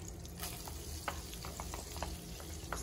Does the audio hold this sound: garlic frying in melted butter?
yes